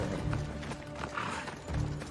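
Horse galloping with clip-clop hooves and a neigh in the video game Assassin's Creed Odyssey, a steady rhythmic run over a low game-music bed, fairly close and moderately loud.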